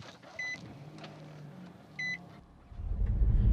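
A 2019 Nissan Rogue SL AWD starts up: two short electronic chimes sound inside the cabin, then the engine turns over and settles into a low, steady rumble that builds toward the end.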